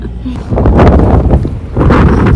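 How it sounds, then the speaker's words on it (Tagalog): Strong wind gusting on a Canadian city street, heavy buffeting rumble against the microphone in surging waves, loud and close. "sobrang hangin"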